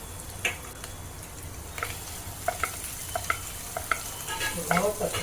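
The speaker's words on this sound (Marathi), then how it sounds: "हे ना आपण परतत परतत थोडा मॅश करून घ्यायचा" Sliced boiled potatoes with salt are sautéed and mashed in a pan for misal potato bhaji, giving a low sizzle under a series of small taps and scrapes from the spatula that grow busier toward the end.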